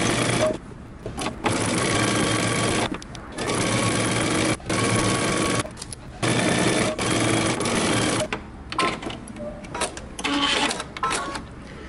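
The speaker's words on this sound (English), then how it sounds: "now we're gonna go ahead to the sewing machine and you're going to stitch across the bottom using a half inch seam allowance" A sewing machine stitches across the bottom of a cardigan band with a half-inch seam allowance and backstitching. It runs in close, loud bursts of rapid stitching separated by short pauses.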